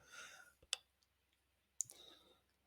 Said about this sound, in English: So you double click here